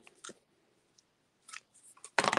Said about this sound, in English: I'm just going to come in and cut that with my ribbon scissors